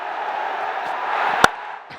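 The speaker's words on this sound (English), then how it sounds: "The crowd cheer." Cricket stadium crowd at a BPL 2025 match between Dhaka Capital and Durbar Rajshahi, cheering in a steady wash of noise with a single sharp crack cutting through near the end.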